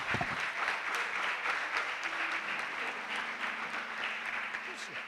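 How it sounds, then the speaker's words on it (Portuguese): A church congregation applauds in steady, dense clapping that carries on for several seconds at moderate volume, with faint voices and a low tone underneath. "Vamos dar um aplauso ao Senhor Jesus nessa noite"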